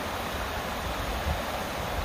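Steady rushing water flows without pause, a soft broadband wash like a nearby mountain stream on a forest trail near Gatlinburg, with no voices.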